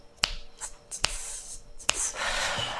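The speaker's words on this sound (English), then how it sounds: "Snap your fingers on 2 and 4" Sharp finger snaps landing on beats 2 and 4 alongside solo jazz guitar, three crisp close snaps spaced evenly, with a brief whisper-like breath between them.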